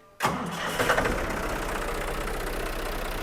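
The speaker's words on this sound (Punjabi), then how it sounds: "ਗੱਡੀ ਸਟਾਰਟ ਕਰ ਟਰੈਕਟਰ ਦੀ" A tractor engine, said to start like a car, cranks and catches at once, then settles into a loud, steady, rumbling idle close by.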